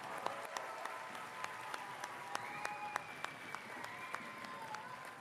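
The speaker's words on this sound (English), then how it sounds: "let's just give them a round of applause before we begin." Applause from a seated audience at a school winter concert honoring student performers, soft and distant clapping with some sharper individual claps, while faint tonal sounds drift underneath.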